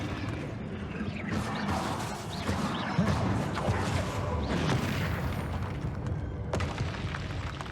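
Hogwarts Legacy combat on PC: Confringo spells set off booming blasts one after another, thick rumbling detonations with crackling debris and clashing combat noise packed together at close range.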